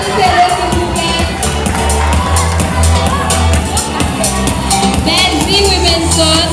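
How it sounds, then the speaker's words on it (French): An audience at a kindergarten end-of-year party cheers and applauds, a loud, continuous crowd roar with scattered whoops and murmuring voices underneath. "Applaudissez-le, s'il vous plaît."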